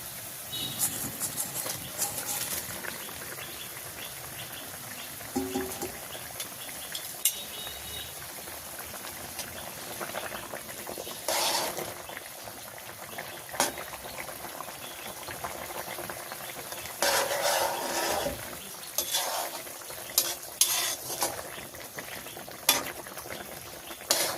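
Pabda fish sizzle and bubble steadily in hot oil in a pan in a village kitchen, with scattered clinks and short crackling bursts over the continuous frying.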